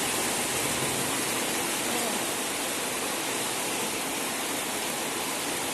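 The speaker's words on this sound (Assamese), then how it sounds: "ইমান বৰষুণ, ইমান ডাঙৰকৈ বৰষুণ দিছে দেখিছে।" Heavy rain pours down steadily near a roadside shop veranda, a dense, loud, continuous hiss with no break from start to finish.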